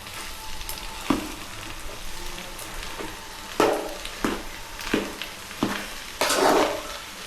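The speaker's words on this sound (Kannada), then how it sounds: "ಗೈಸ್ ಹಂಗೆ ಚೆನ್ನಾಗಿ ಫ್ರೈ ಮಾಡ್ಕೊಳ್ಳಿ" Egg pasta sizzling in a hot pan, a steady frying hiss broken by repeated scraping stirs and spatula knocks about once a second, close and clear without talk.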